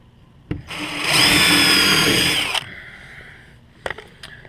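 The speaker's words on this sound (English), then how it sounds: "I will drill a hole here in the middle." Power drill boring a hole through the middle of a wooden can shelf, a loud close whirring burst of about a second and a half, followed by quieter clicks and a short motor blip.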